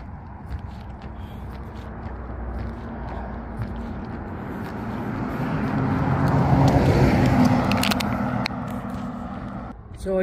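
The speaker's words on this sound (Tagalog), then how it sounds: "So medyo marami ng mga sasakyan ngayon dyan" Steady rumble of cars passing on a road near an intersection in Illinois, continuous traffic noise that swells louder toward the middle and then eases, heard from the roadside during a jog.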